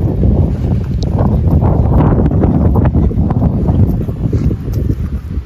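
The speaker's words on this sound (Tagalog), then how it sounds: "Grabe, medyo malakas yung hangin." Strong wind at a beach resort in Calatagan, Batangas, blowing hard as loud, rough buffeting against the microphone with gusty rumbling throughout and no talk.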